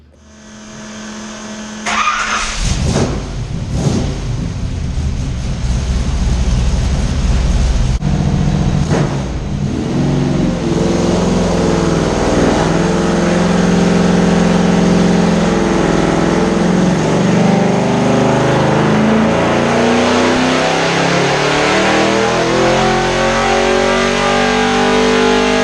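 A dyno-mounted engine breathing through 1 5/8-inch primary headers into a 3-inch collector revs hard and loud, climbing from sharp blips to a sustained high-rpm wail with a rising harmonic sweep, alone without voices.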